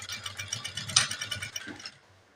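A domestic sewing machine stitches a churidar neck in one quick, rhythmic burst of about two seconds, a light clattering chatter that stops abruptly.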